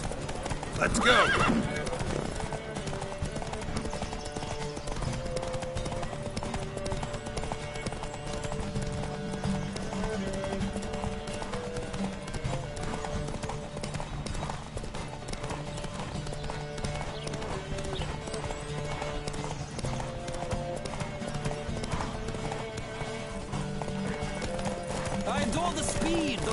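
Horses galloping in a race in the video game The Witcher 3, a steady rapid clip-clop of hooves with neighing near the start, under game music and voices talking.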